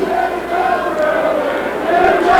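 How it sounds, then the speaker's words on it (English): North Bergen football crowd at a 1994 high school game against Hackensack, a sustained mass of voices chanting "Here we go, Bruins" in a steady rhythmic roar that swells slightly toward the end, heard from nearby. "Crowd chanting, "Here we go, Bruins," as the North Bergen crowd is right in front of us."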